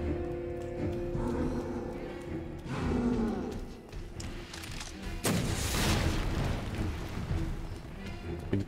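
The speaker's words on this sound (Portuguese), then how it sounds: "Ele tomou o tiro." Gunfire in the Resident Evil 2 Remake video game, with a few loud sharp shots and bursts cutting through a busy mix of game sounds and effects.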